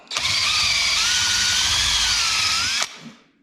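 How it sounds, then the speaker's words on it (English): A power drill with a 3/8 inch bit, enlarging holes in a tube, whines steadily at high speed for nearly three seconds, close and loud, then stops abruptly and winds down. "3/8 inch bit in the drill. I'm just going to run through these holes"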